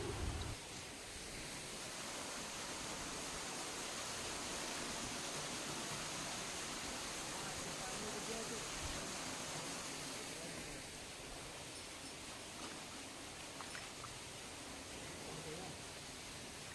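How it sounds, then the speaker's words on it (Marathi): Continuous rushing water runs as harvested vegetables are washed on a farm field, a steady broadband wash that eases slightly partway through. "आता इथं धुवायचं काम सुरू आहे"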